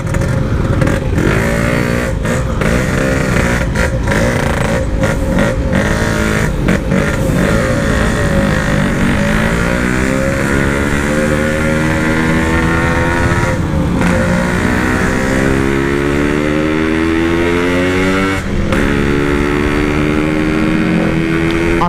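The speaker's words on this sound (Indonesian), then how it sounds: "Asli knalpotnya jadi kenceng banget," A GL motorcycle with a very loud exhaust on a night ride, its engine droning hard and close throughout as the revs climb and drop through the gears, with a few short dips.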